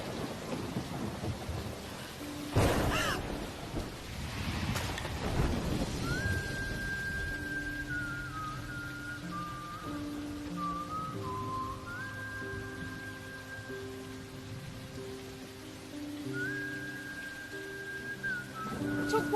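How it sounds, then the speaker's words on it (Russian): A loud crack of thunder and a second rumble break over steady rainfall, after which the rain keeps hissing underneath a soft, sustained melodic tone. "Дождь идет, что ли?"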